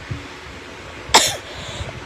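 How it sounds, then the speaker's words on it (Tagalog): A single short cough, sharp and close, against a quiet room background. "kundi yung ubo lang talaga."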